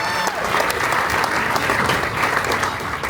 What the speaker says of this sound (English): Give me a huge round of applause